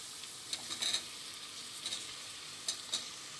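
Onions and garlic fry quietly in a pan for tomato rice, a soft low sizzle with a few light scraping stir strokes. The whole thing is faint and close, with no speech.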